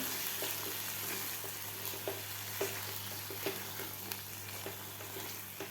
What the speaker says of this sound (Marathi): आपल्याला व्यवस्थित हे परत एकदा परतून घ्यायचं आहे मिश्रण